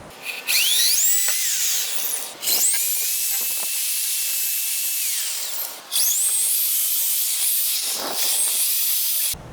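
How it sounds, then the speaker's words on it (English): A high-pitched power drill boring holes in wood whines in three long bursts separated by short pauses, close and loud, with no talking. "we could get a drill and make an area for our jigsaw blade to go in"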